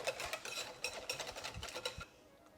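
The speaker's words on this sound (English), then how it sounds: "Add a little bit, whisk it up before we add the rest." A whisk beats whole milk into Yorkshire pudding batter in a bowl, giving quick, rhythmic scraping and clattering strokes, close and fairly loud, alone with no talk, fading out at the end.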